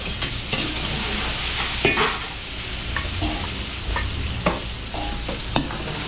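Crab in coconut sizzling and frying in a pan, with steady loud sizzle and occasional stirring clinks and scrapes of a utensil against the pan, no talk.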